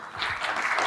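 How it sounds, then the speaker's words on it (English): Applause from an audience at a seminar on sustainable development in Nigeria's mining industry, a brief dense burst of clapping that swells in quickly and holds steady, close and fairly loud. "Please, can we give him another round of applause?"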